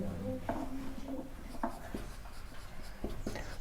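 A math teacher writes on a board while working through a geometry problem, giving a run of close, scratchy strokes in short bursts with brief pauses between them.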